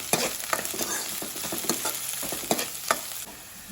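Chopped green chillies and cut red chillies fry in hot oil for rajma sambar, a close, steady sizzle broken by sharp spatters and the scrape of stirring, with no voices.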